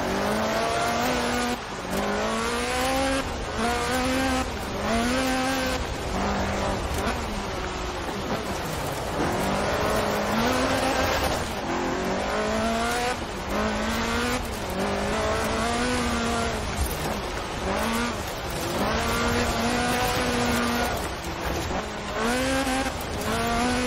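A Lotus Sunbeam rally car with a 2.2-litre slant four-cylinder engine races in Forza Horizon 4, its engine rising and falling in pitch through repeated gear changes, loud and continuous with occasional tire squeal.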